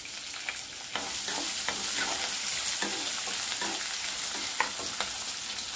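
Finely chopped onion frying in hot oil with mustard seeds, cumin, urad dal and chana dal, a steady close sizzle broken by intermittent stirring clicks and scrapes, no talking.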